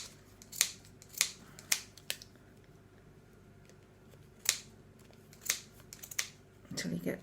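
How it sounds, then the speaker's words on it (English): Scissors snip through the wound wool of a pom-pom, cutting between the rings: crisp, close snips at irregular intervals with quiet pauses between, and a soft rustle of yarn at the end. "you're actually going to be cutting between the pom-pom rings here"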